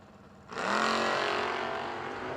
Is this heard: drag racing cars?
yes